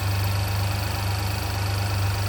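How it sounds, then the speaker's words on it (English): Steady, droning exhaust note from a 2019 GMC Canyon engine running at idle with its exhaust valve open, a loud, even low hum held without change for a couple of seconds, close by, with no talking. "that's the normal GM exhaust valve. Sounds so loud."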